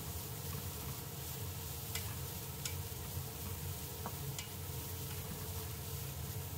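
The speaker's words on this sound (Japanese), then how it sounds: "よく混ぜていきます" Broccoli and ham gratin mixture with pepper being stirred in a pan: a constant low sizzle with a few faint, sparse scrapes and taps of the utensil.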